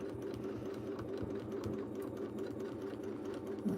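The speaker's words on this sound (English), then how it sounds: "I can look just past my sewing machine and get it right on the seam line on the other side. And stitch in the ditch." A sewing machine stitches in the ditch along a quilt seam line, running as a steady, fast mechanical whir with rapid needle ticks, close and continuous, no talking.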